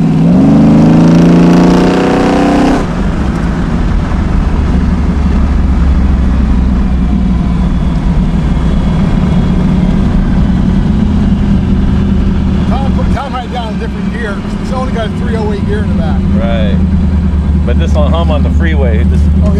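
A 765 HP fuel-injected big-block Chevy in a 1934 Ford Coupe gives a short loud rev at the start, then settles into a steady, deep, rumbling idle. People talk over the engine in the later part.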